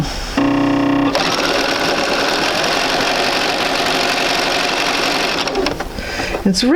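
A sewing machine stitches a quilt block up a seam, starting with a short hum and then running in a fast, steady, loud mechanical whir close by until it slows and stops near the end.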